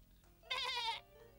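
A cartoon goat bleats once in a loud, wavering half-second cry, standing alone between quiet moments in an animated farm scene.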